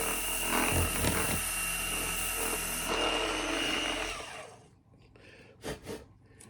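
A handheld power buffer with a 2,000 grit pad whirs steadily for about four seconds, its pitch shifting slightly, then spins down and stops, leaving a couple of brief knocks.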